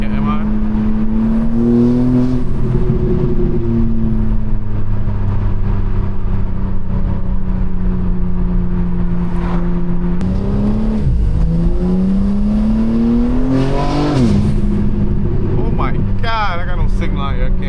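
A BMW M4 Competition with a loud exhaust drones and rises in pitch while driving, with engine tones sweeping up and down through several gear changes, close and continuous under a cabin hum.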